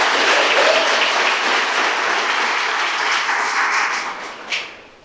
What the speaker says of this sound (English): let's give Hadley and Jackson one more round of applause for a good job of emceeing